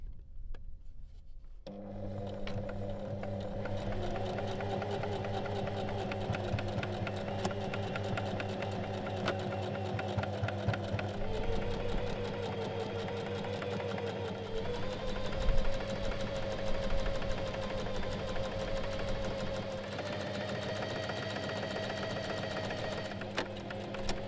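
A sewing machine runs in long, steady bursts with a close mechanical whir and rapid needle clatter while stitching back and forth over a fabric loop on a robe, its pitch shifting slightly as it changes direction.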